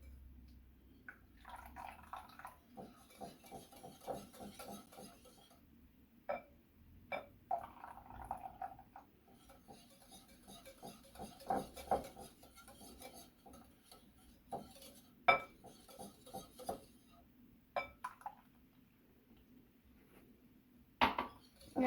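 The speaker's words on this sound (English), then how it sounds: "I'll mix until all the ingredients are well mixed together. I'm going to add my milk, little by little." A utensil clinks and scrapes against a bowl as milk is mixed little by little into cake batter, with irregular soft taps and faint drips, quiet and close, with long gaps between bursts.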